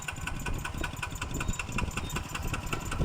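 A used Kubota ET95 small diesel engine, a water pump engine, idles steadily up close, with a rapid, even knocking chug and a faint metallic ticking on top.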